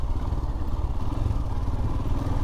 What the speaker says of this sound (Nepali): यस्तो अपरोडिङको लागि चाहिँ बेस्ट हो गाइस यो बाइक